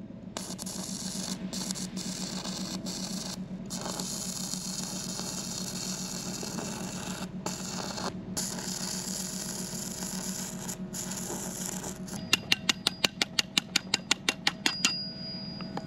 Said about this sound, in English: So that was using the arc welding right there